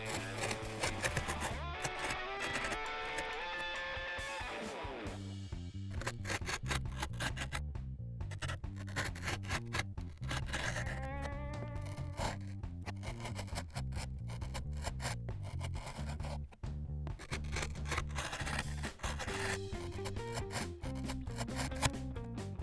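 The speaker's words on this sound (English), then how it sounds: "With an X-Acto knife or box cutter, cut along the outline you just made." An X-Acto knife or box cutter traces the outline through clear grip tape on a skateboard deck, giving a dense, continuous rasping and scratching with choppy, irregular strokes heard up close.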